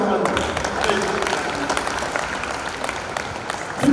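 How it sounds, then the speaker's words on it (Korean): A crowd applauds steadily at a disabled athletes' awards night in Gwangju, a dense wash of clapping that holds for several seconds, with voices faintly mixed in. "우리 모두 축하의 박수로 한번"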